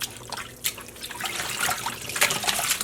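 Hand-dyed yarn being washed in a sink after steaming, with sloshing, trickling water and drips as the skein is moved and rinsed, close and continuous with no speech.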